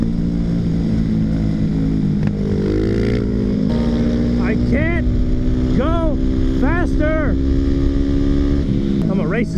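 A Yamaha WR450 motorcycle rides off, its engine droning loudly and steadily, then rising and falling through several revving gear changes close by, while people talk over it.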